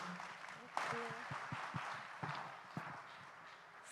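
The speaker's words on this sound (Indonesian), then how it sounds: "Boleh tepuk tangan." Audience applause at a stage event featuring Hermanto Tanoko and Isyana Sarasvati, a soft, steady patter of clapping heard at a distance with a few sharper claps and faint voices mixed in.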